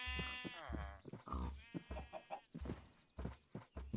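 Sheep in the video game Minecraft bleat repeatedly, near and loud, in a run of drawn-out, wavering cries with short gaps between them, no talking over them.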